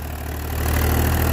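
A 2021 Mahindra 265 tractor runs with a 7-foot rotavator, a steady, loud low-pitched engine drone that holds constant and grows slightly heavier through the short stretch, with no talk over it.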